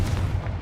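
A Confringo blast in the Hogwarts Legacy video game booms with a deep, heavy low rumble that sustains briefly before cutting off.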